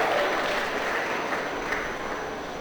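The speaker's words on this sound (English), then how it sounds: "Let's give a round of applause to your junior showmen out here, guys." Applause for junior showmen at a county fair swine show, a steady crowd clapping sustained evenly for a couple of seconds in an indoor arena, fading slightly at the end.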